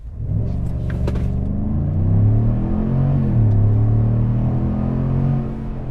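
A 2021 GMC Sierra 1500 Denali pickup accelerates hard in sport mode at night, a loud, steady engine roar and drivetrain rumble that climbs in pitch through a gear change, heard from inside the cab.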